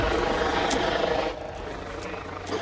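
A police helicopter drones overhead with a steady rotor thrum, loud and constant at first, then easing slightly, while voices talk over it.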